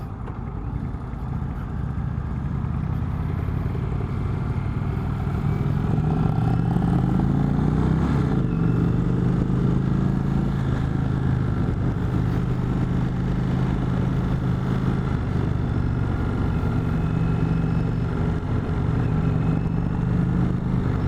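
Indian Chieftain motorcycle engine accelerating, a loud, steady low-pitched roar that rises in pitch through the gears and holds with wind rush, with no talk.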